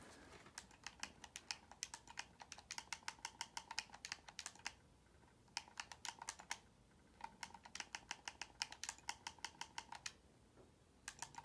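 A password is tapped quickly on an iPhone's on-screen keyboard. Rapid, faint key clicks come in two steady runs with a short pause between them, close by, with no speech.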